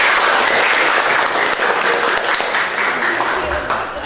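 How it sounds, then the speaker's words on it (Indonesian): A school classroom applauds after a group presentation, the clapping loud, close and continuous throughout, thinning slightly toward the end. "Ya, tepuk tangan."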